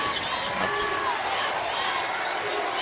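Basketball fans cheering for the Spartans of Norfolk State at the 2025 MEAC women's championship against Howard, a steady loud arena crowd roar with whistles and sneaker squeaks running throughout, voices faintly in the mix.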